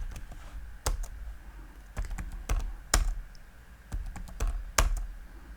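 Keys clatter on a computer keyboard as a root password is typed, in short bursts of sharp clicks with brief pauses, close and fairly loud with no talking.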